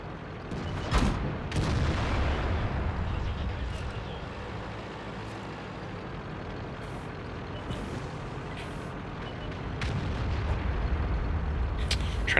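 Japanese heavy tank cannon fire in a tank battle video game, with a sharp blast early followed by a rumbling engine and battle background, then further distant impacts, no talking.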